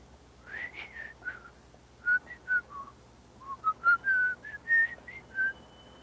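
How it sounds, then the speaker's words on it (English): A person whistles a short, bright melody of separate notes, some sliding, in a clear close solo with quiet background and no speech. "I whistle."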